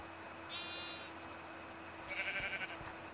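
Sheep bleat in a Minecraft-style video game, two short, faint electronic-sounding bleats a second or so apart over a quiet background hum.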